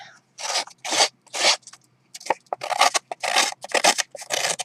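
Repeated crisp scissor snips slice through ribbon in quick bursts, a short pause midway, then a faster run of cuts, close and alone.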